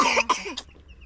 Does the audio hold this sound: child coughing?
yes